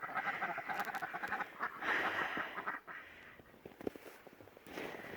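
Ducks quack in a cold Maine winter outdoors, a steady run of faint, chattering calls with a few sharper quacks standing out.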